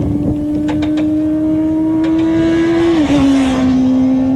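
A sport motorcycle's engine holds a loud, steady tone close by as it drives out of a corner, then drops in pitch slightly as the throttle changes.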